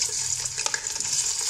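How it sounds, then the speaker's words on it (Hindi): Chicken pieces frying in a pan for a quick masala chicken, giving a steady, close, continuous sizzle with faint stirring clatter and no voices. "अब हम चिकन को फ्राई करना शुरू करते हैं।"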